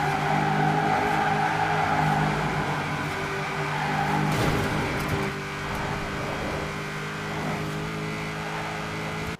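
Fully upgraded free car in Forza Horizon 4 driving at high speed, a steady loud engine drone with game music or ambience layered over it throughout, no pauses.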